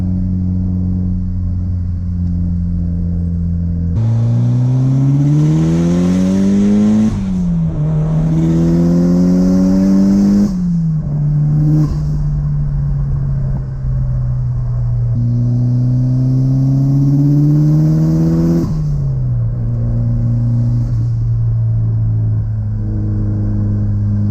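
A car engine revs repeatedly, climbing and dropping in pitch with loud, close rumbling between bursts, no voices.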